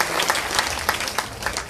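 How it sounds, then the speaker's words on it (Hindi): A live audience at a Bhagwat Saptah gathering in Noida claps loudly for a kirtan group, a dense, steady round of applause with no one speaking over it. "तो एक बार जोर से ताली बजाइए"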